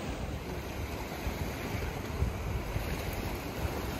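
Ocean waves wash against the rocky coast at Otter Cliff in Acadia National Park on a winter morning, a steady broad surf roar mixed with wind buffeting the microphone.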